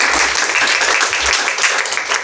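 An audience at a Brazilian communications event applauds warmly, dense steady clapping filling the room, loud and continuous throughout.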